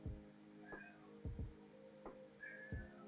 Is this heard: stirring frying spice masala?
no